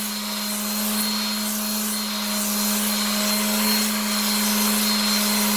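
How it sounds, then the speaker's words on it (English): Sander running steadily against a vintage rail plate to remove rust, a constant loud electric whine with a low hum and gritty abrasive rubbing, close and uninterrupted. "Take the back of your sander, go down."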